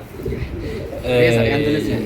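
A racer pigeon's throaty, rolling coo at a pigeon market, close and fairly loud, in the second half, with a person talking faintly around it.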